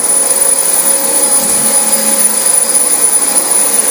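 A Dyson DC25 upright vacuum cleaner runs steadily over filthy, long-neglected carpet, a loud continuous motor whine with a high-pitched tone, close and alone with no talking.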